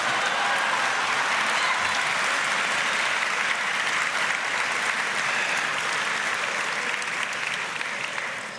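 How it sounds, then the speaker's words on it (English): An audience at a gala speech gives sustained, full-room applause that stays loud and even throughout and tapers off slightly at the end. "how about a round of applause for Kim Cattrall?"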